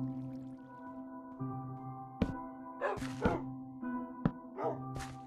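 A pet dog barks in Minecraft, with several short, sharp yips and woofs spread out over a steady game music bed. The barks are moderately loud.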